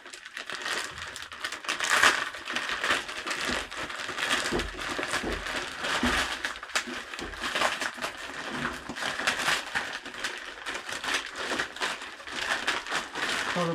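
Plastic bags crinkle and rustle continuously while a System 55 modular synthesizer is unboxed, a close, busy crackling texture with no talk.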